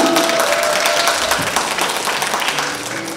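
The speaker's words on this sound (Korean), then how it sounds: "박수로 맞아주시기 바랍니다." An audience applauds steadily throughout, welcoming a student team onto the stage at a pitching contest. The dense clapping is loud and continuous and eases slightly toward the end.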